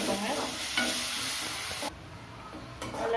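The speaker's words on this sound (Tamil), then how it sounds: "நல்லா மிக்ஸ் பண்ணிக்கோங்க தக்காளி வெங்காயம் எல்லாம்" Tomato and onion sizzle as they are stirred in a frying pan for a paneer gravy, with a loud hiss and close scraping of the spoon that cuts out briefly before resuming.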